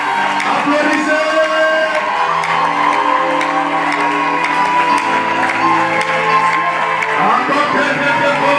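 A crowd of wedding guests at a nuptial blessing claps and cheers loudly, steady applause mixed with whoops and shouts that carries on for several seconds against a continuous musical hum.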